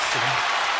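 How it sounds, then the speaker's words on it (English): Audience applause and cheering at a live podcast taping, a dense wash of clapping filling the short moment with a faint voice underneath. "Make some noise for DreArtist one time, man."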